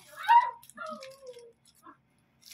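A small dog gives a few short, high yips and whimpers close by, with brief silences between.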